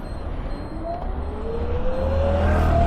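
An Ather 450X electric scooter with a 2.9 kWh battery, ridden in Eco mode, gives a thin electric whine that rises gradually in pitch over rumbling road and wind noise that grows louder, with no speech.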